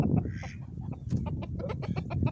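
Young Silkie chickens and small roosters cluck and chatter close by in quick, overlapping bursts, with soft rustling and handling noises underneath.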